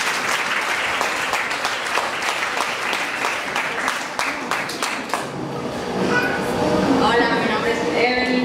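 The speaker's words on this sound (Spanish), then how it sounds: "Un aplauso para ella." Loud audience applause at a charity foundation event, a dense continuous clatter of many hands for about five seconds, then dying away as a voice and room noise take over.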